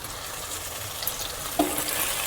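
Chicken curry masala with salt and tomato sizzles and fries in a pan, a steady close crackle with faint stirring and a small clink partway through.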